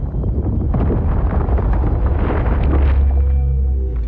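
Deep, continuous rumbling of Europa's icy surface being torn apart by Jupiter's tidal gravity, a loud, steady roar with crackling bursts throughout and a heavier surge near the end.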